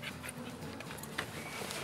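A dog pants steadily on a public street walkway, the quick breaths close and continuous against a low outdoor background hum.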